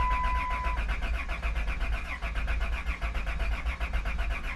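Chrysler Town & Country minivan engine cranking with a steady, rapid starter whir and rhythmic pulsing, close up and fairly loud, after a water pump and timing chain service.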